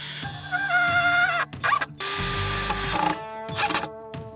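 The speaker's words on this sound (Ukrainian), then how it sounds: "Можемо прикручувати його шурупами." A power drill drives screws through a bent metal corner bracket into wooden beams while building a large slingshot, with several short whirring bursts and pauses, loud and close.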